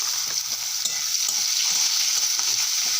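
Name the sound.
onions added to frying spices in a pan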